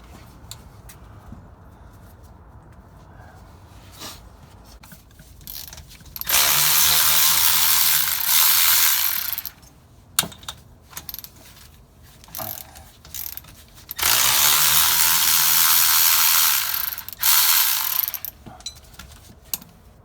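A ratchet spins off differential cover bolts on a Nissan Titan in two loud, close bursts of rapid clicking, with quieter metallic handling noises in between.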